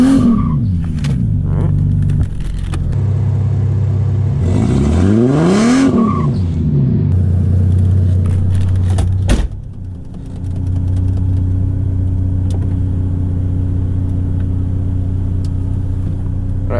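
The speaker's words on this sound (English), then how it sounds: "do a little bit of a burnout here," A Mercedes SLK32 AMG does a burnout, with a loud, close engine revving hard and tires squealing, then a brief drop before the engine settles into a steady high idle roar.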